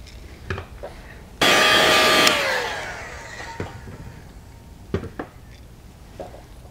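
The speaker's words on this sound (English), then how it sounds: "And let's heat set this again." Heat gun heat-setting freshly sprayed paint, a loud blowing whoosh that switches on abruptly and runs for about a second before fading down, with scattered small knocks around it.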